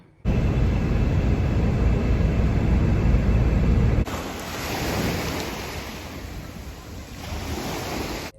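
Ocean surf washing onto a beach in Fuerteventura on a hot August day, a steady loud roar of breaking waves with wind buffeting the microphone, easing slightly partway through.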